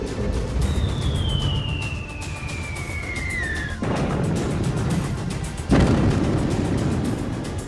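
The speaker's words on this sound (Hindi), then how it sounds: "अब ईरान की तरफ से जोरदार मिसाइल अटैक किए जा रहे हैं इसराइल पर" Missile attack on Israel: a descending whistle streaks down for several seconds, followed by sharp explosive booms and blasts over a constant rumbling background.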